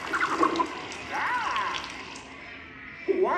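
Water sprays and splashes across a theater audience during the Muppet*Vision 3D show at a Disney park, a hissing gush in short bursts with voices and crowd reactions mixed in.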